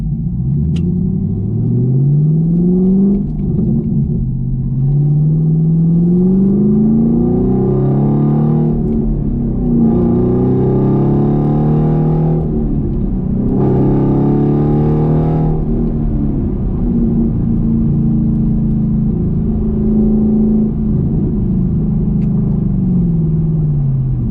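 Chevrolet Camaro engine with an MRT off-road H-pipe exhaust, a deep loud rumble that rises and falls through several throttle blips and sustained revs over idle, close and continuous, no talking.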